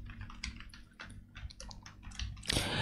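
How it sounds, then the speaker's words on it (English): Soft, irregular keystrokes on a computer keyboard as a password is entered, a quick scattered run of clicks close by with no talking, ending in a brief louder burst. "so I'm typing my password it here"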